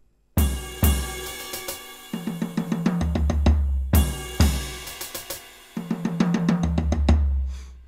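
A full drum-kit groove with kick, cymbals and a descending tom fill, played through twice at a steady tempo, close and punchy with no talking.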